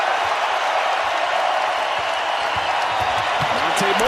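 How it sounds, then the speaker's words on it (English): A basketball arena crowd at a Spurs–Nuggets playoff Game 7 roars and applauds in a dense, steady wash of noise, with a commentator talking over it. "That crowd comes to its feet."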